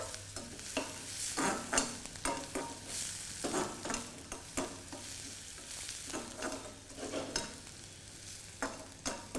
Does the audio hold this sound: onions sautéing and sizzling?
yes